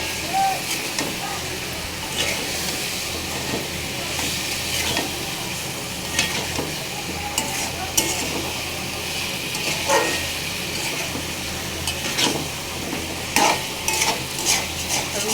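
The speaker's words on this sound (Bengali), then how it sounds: "ভাবলাম একটু মুরগিটাই ভুনা করি" Chicken bhuna being stirred in a pan, with a steady close sizzle and frying hiss under repeated scraping and clattering strokes of a spoon throughout.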